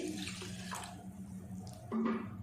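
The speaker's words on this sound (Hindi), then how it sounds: "आधा गिलास पानी का डाल के अच्छे से पहले इसको हम मिक्स करेंगे" Half a glass of water poured into a maida flour mixture for Multani sohan halwa: a close, continuous splashing pour that swells slightly toward the end.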